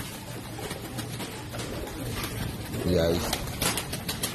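A Teddy pigeon coos softly with some wing flapping, heard close up beneath someone talking in Hindi.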